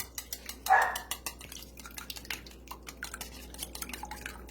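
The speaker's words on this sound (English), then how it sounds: "I'm just going to grab a whisk. We're going to beat the hell out of these eggs in here." Eggs beaten with a whisk in a bowl, heard as a quiet, fairly steady run of small clicking and tapping strokes against the bowl, with no talking.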